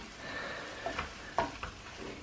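Chicken Thai green curry stir fry is stirred in a hot pan. A soft, steady sizzle runs throughout, with a few brief scraping strokes as the food is mixed.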